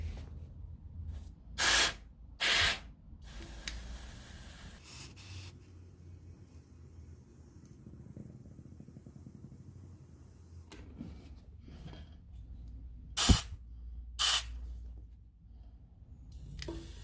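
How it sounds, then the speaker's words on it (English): A hand pump pushes air into a tyre on an old Suzuki ATV barn find in a few short, loud hissing strokes, separated by long quiet gaps with faint background noise. "I'm just going to try pump the tyre up with this"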